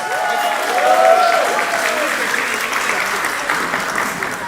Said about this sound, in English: please a big round of applause for Kavina's parents